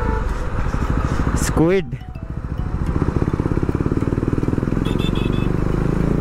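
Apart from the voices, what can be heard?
KTM motorcycle doing a fly-by past the rider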